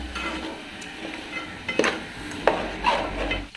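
Turmeric and chili powder being stirred into mutton curry in a pot, producing soft scraping and clinking of a spoon against the pan with a light sizzle underneath, a few sharper knocks near the end.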